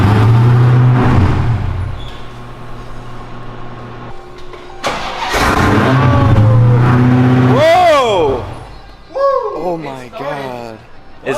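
A manual-swapped Dodge Charger Hellcat fires up and revs, its loud engine rumbling and rising in pitch in a few surges before settling, while people talk nearby.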